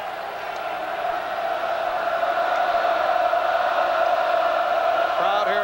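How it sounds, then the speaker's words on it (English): A basketball crowd roaring at Cameron Indoor Stadium during a 1990 Duke Blue Devils game against North Carolina, a steady loud wash of cheering that holds throughout. "Crowd here at Cameron getting back into it"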